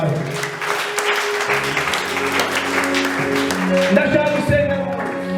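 A church congregation claps at a service while sustained organ or keyboard chords play beneath. The applause is moderately loud and continuous, and a voice is faintly audible.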